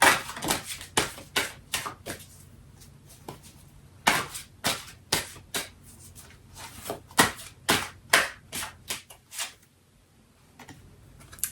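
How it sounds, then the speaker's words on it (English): Playing cards shuffled over and over during a tabletop game, a rapid series of crisp riffling bursts and snaps with short pauses between them, close and fairly loud with no talking. "Yeah, just keep shuffling."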